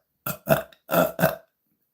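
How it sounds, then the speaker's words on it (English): A person deliberately forces out four short, throaty burps in quick succession, close up and fairly loud, with brief silent gaps between them. "I can make myself burp"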